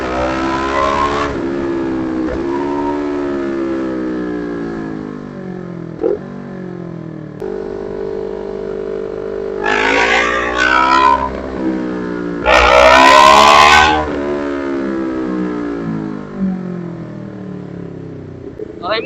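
Road traffic surrounds a passing vehicle, with loud, close engine drones that rise and fall as cars or motorcycles accelerate and pass, punctuated by brief louder surges.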